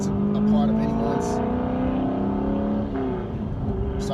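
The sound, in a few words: loud car engine in traffic ahead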